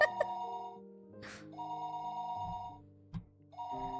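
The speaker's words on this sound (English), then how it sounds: "The phone rang noisily downstairs." A telephone rings in the video game Higurashi, repeated electronic ring bursts mixed with game music and a few soft clicks.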